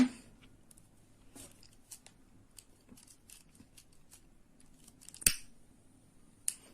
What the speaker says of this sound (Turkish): Daha sonra ipimi keseceğim buradan.